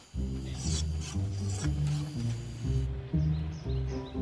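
Hand filing of a brass piece for a metal inlay, a close rhythmic rasp of repeated strokes, about eight passes in a steady back-and-forth pattern.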